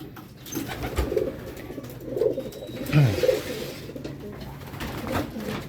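Racing pigeon hens cooing in a loft, soft low repeated coos coming in bursts at a steady rhythm, fairly close, with faint background rustle and no speech.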